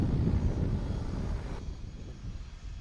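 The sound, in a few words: Corsair aircraft with 2,000 horsepower engine and huge propeller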